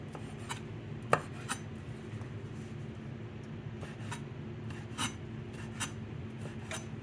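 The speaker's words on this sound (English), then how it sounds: "you want to cut these up in little chunks" A knife cutting ingredients into small chunks for gluten-free crab and shrimp cakes, sparse scraping and tapping strokes on a board at an irregular pace, close and quiet, with no talking.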